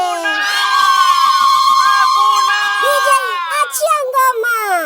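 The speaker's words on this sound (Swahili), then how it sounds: "Wananchi pigeni vigelegele." A crowd at a political rally ululates loudly and close, many high trilling voices sustained together for several seconds before breaking into scattered shouts and cheers.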